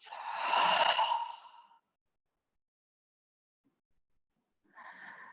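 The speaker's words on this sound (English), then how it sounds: "and breathing out." A deep exhale from a guided yoga breathing exercise, a close, breathy sigh lasting under two seconds, followed by silence and then the start of another soft breath.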